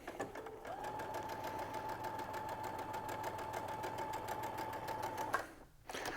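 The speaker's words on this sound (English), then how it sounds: "run my 1/4 inch seam allowance real quick." A sewing machine runs a quarter-inch seam joining fabric pentagons for a sewn ball, a steady fast mechanical whir and needle chatter held for about five seconds before stopping abruptly.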